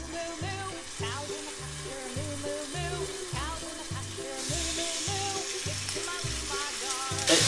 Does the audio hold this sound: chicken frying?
yes